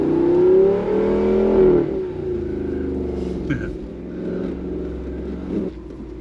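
A Jeep engine revs and strains in bursts as it wheels across off-camber snow in Colorado, loud and close, easing off midway with faint voices beneath.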